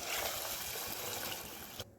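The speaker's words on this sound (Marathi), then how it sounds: "ते शेंगा शिजून घेतलेला ते पाणी सहित टाकून द्यायचं." Cooking water from boiled drumsticks pours into a pan of spice paste as a steady, dense rushing splash lasting about two seconds, close and moderately loud, ending abruptly.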